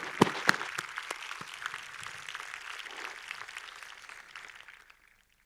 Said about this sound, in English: please join together in a big applause for each other while you're seated